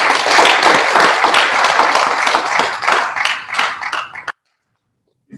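Dense, loud audience applause fills a hall at a book launch for a legal practice text, sustained steadily before cutting off abruptly into silence.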